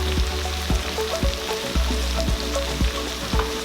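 Mushrooms and chopped parsley sauté in a hot pan, a loud, dense sizzle with a low steady hum and repeated soft knocks of a spoon stirring.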